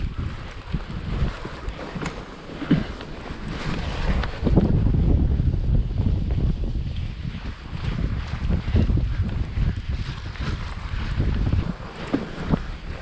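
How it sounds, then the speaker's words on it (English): Fat bike tyres roll slowly through water on soft, boggy mountain ground in the Lake District, a continuous squelching, sloshing rumble mixed with steady wind buffeting the microphone. "you can hear the water underneath the wheels"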